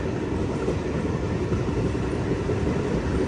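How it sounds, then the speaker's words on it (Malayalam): Train pulling into Awantipora station on the Srinagar–Banihal line, a steady close rumble of rolling wagons with faint rail clatter, no voices. "ട്രെയിൻ ഇപ്പോൾ അവന്തിപുര എന്ന് പറഞ്ഞിട്ടുള്ളൊരു സ്റ്റേഷനിലെത്തിയിരിക്കുകയാണ്"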